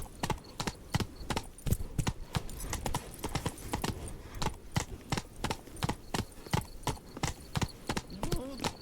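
Roach, the horse in The Witcher 3 video game, gallops with rapid, even clip-clopping hoofbeats, close and loud throughout, with a faint snort or whinny near the end.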